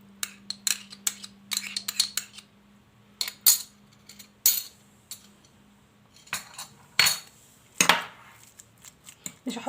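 Utensils clink and scrape in a bowl as cheese is mixed into a dough filling, a series of sharp metallic taps and scrapes in irregular bursts with brief pauses and a low steady hum beneath.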